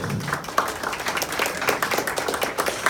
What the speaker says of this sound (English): So I'd like a little round of applause to our panelists today.